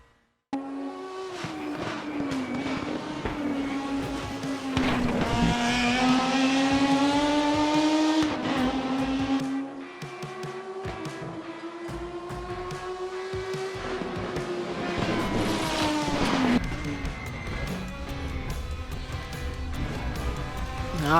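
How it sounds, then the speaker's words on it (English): A Volvo S60 Polestar race car in the sim racing game Raceroom roars close by, its engine revving up and down through gear changes with brief tire squeal, loud and continuous. "that's number 4, the Volvo S60 Polestar."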